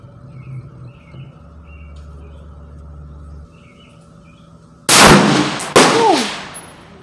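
A single loud shot from an AT Omni Hybrid AR pistol in 5.56 at an outdoor range cracks out sharply, then a second sharp report follows and rings down, after a quiet stretch of birds and a low hum.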